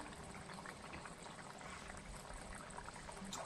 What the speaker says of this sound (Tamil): குழம்பும் நல்லா தலை தலை தலைன்னு கொதிக்குது